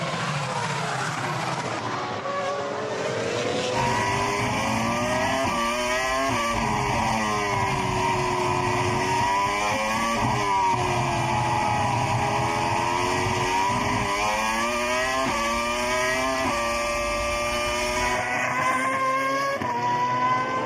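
Onboard engine of Scott Speed's Formula 1 car at the 2006 Hungarian Grand Prix, a loud continuous high-revving scream rising and falling through gear changes and corners.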